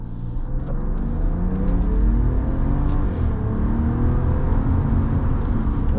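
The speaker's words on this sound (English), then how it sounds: "Let's open up this twin turbo inline-6 just a little bit." A 2025 Ram 1500 Tungsten's twin-turbo inline-6 pulls steadily on the highway, a continuous low engine rumble and road roar heard from inside the cab, with no talk.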